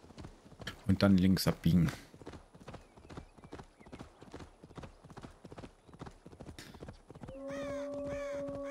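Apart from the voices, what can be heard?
horse galloping hooves in Assassin's Creed Valhalla video game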